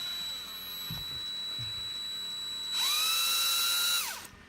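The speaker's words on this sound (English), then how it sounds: "you need to drill a hole here first" A small rotary drill whines at high pitch for about a second, biting into a plastic X-Wing Miniatures Jumpmaster 5000 model, then spins down; faint handling knocks precede it.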